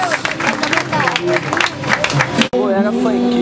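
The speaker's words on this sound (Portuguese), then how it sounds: "aplauda ao Senhor" A crowd applauds at a gospel performance on Uruguaiana street, with dense clapping blended with loud singing and voices over it before a sudden cut to another sung passage.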